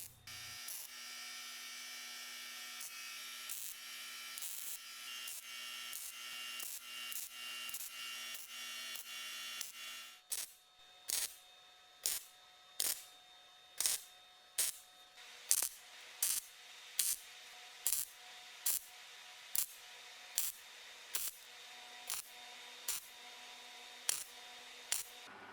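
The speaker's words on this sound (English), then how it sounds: "I can now slowly but surely weld in the rest of it" Welding a rust repair panel into the windscreen frame of a Mercedes W123: a quiet, steady buzzing crackle at first, then a series of short, evenly spaced welding bursts about a second apart, with no talking.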